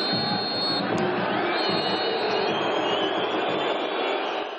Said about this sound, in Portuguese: com vaias e protestos do torcedor